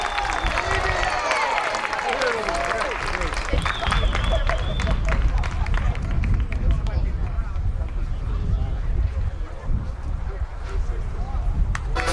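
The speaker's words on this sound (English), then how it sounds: "Big round of applause for the band." Audience applause for the band at a Trop Rock Music Association awards show, a dense sustained clapping that fades toward a quieter crowd murmur with a voice speaking over it.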